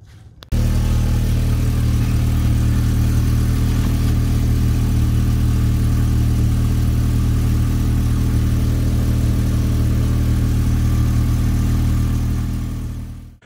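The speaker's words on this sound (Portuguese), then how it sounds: "depois vou dar a partida no carro, só para garantir que não vai ter nenhum vazamento nem nada assim" A Volkswagen Gol G3 engine, just after a fuel filter change, cranks and catches at once, then idles loudly and evenly for about thirteen seconds at close range before cutting off, with no talking.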